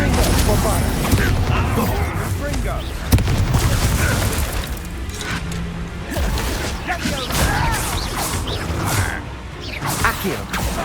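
Spell combat in the Hogwarts Legacy video game, with a Bombarda blast: loud booms and whooshing bursts over busy game sounds while voices shout.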